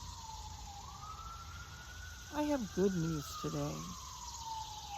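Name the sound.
approaching emergency vehicle siren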